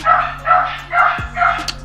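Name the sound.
dogs barking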